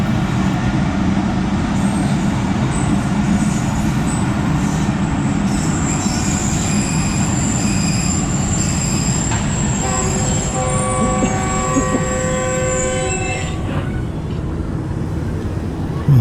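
A Pakistani passenger train, the Tezgam, departing: loud, close rumble of rolling railcars with a rising metallic wheel squeal and a high whine, steady throughout.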